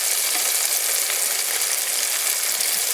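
Eggplant slices sizzle steadily in a hot pan with oil, a dense, even crackle that holds at a constant level throughout, with no voices and no distinct sound of the slices being flipped.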